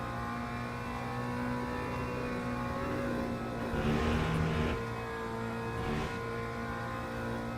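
A hypercar in the racing game Le Mans Ultimate swells in with a brief roaring pass over a steady engine drone from the player's car, followed by a second quicker whoosh.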